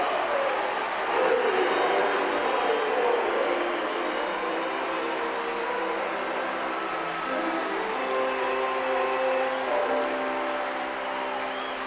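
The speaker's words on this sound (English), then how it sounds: "Crowd giving Grace a great hand." Baseball crowd at Wrigley Field applauding a home run, a dense sustained roar of clapping and cheering that holds steady throughout, with a faint commentator's voice over it.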